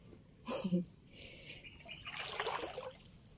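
Water trickles and splashes in an outdoor spot where fresh and salt water meet, with a brief louder splash early and a steadier wash of trickling later, faint and fairly close, with no talk.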